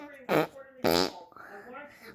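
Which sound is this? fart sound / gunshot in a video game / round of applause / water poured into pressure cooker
fart sound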